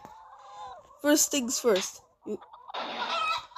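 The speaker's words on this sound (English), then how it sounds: "Secondly, the chickens attack." Chickens cluck and squawk in the Chicken Range shooting game, several short loud bursts clustered together and a denser flurry near the end, mixed with someone talking.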